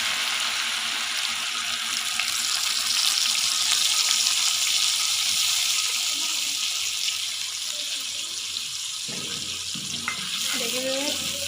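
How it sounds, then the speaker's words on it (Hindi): Tomato paste, ground with two chillies, sizzles as it fries in a pan with garlic-ginger paste, giving a steady, close frying and hissing wash throughout, with faint scraping or stirring near the end. "अब हम इसके अंदर 2 टमाटर का पेस्ट डालेंगे।"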